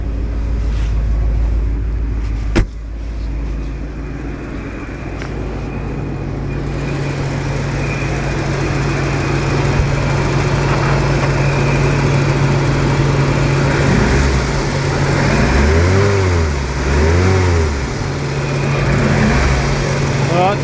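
A 1988 Porsche 928 S4 engine idles steadily with a whirring cooling fan hum beneath it, running with the air conditioning on, close and continuous, with a sharp click early on and some faint voices.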